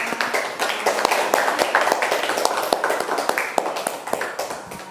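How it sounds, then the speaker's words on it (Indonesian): A group of students claps for a classmate in a classroom lesson, a brisk patter of hand claps running steadily for about five seconds at moderate loudness, with faint voices beneath. "tepuk tangan dulu untuk teman kita."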